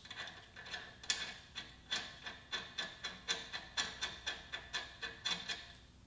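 A ratchet spins a second nut onto a BMW M2 Competition wheel stud, producing a steady run of quick, evenly spaced clicking strokes, close and clear, with no talking.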